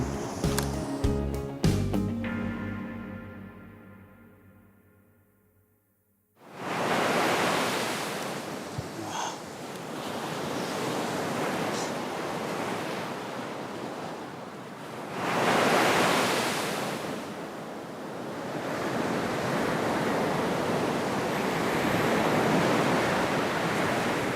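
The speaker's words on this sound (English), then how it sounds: "the sounds of the ocean, the sounds of the waves hitting the sand, they're actually really calming" Ocean surf rolling onto a sandy beach at Samcheok, Korea, a steady broadband wash with swelling crests around the middle and end, after a brief opening of unrelated musical tones that fades into a short silence.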